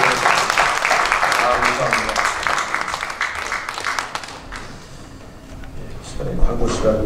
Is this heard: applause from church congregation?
yes